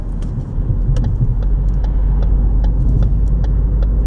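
Steady car engine and tire rumble while cruising west along a suburban road with roundabouts in West Bloomfield, Michigan, a constant close low drone with faint ticking clicks above it and no one talking.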